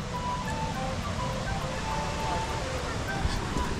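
Waterfall at Cachoeira do Salto park in Extrema, Minas Gerais, a steady broadband rush of falling water with faint voices and children in the background.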